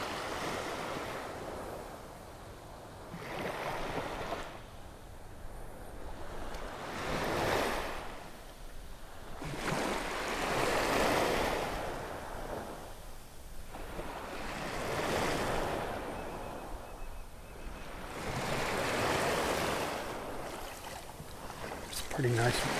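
Ocean waves break on a beach in North Naples, Florida, in slow swells every few seconds, rising and fading, with wind noise in the background.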